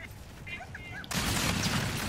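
Sustained burst of game gunfire in Call of Duty: Infinite Warfare multiplayer, starting abruptly and continuing loud and dense after a quieter stretch of faint background sounds.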